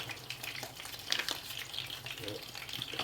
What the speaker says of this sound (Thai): ระหว่างรอปลาทอด